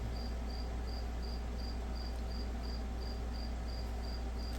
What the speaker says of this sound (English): That's the sound of a cricket that found out how to get into the top of the wall near the eaves,